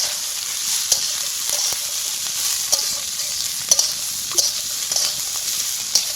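Green peas, cashews and raisins for fried rice sizzle steadily in a pan, with intermittent sharp clicks and scrapes from stirring at close range and no voices.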